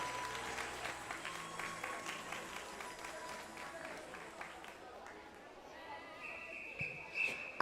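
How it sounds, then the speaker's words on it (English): Audience applause at a county swimming championship, steady clapping from a crowd in an echoing pool hall under a speaking announcer, fading toward the end. "A big round of applause, please, for Fabian of Hoddesdon."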